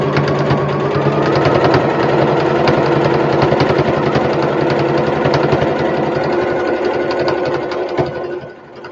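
A sewing machine stitching with a loud, fast, rapid mechanical rhythm of needle strokes that runs steadily for several seconds before slowing and stopping at the end.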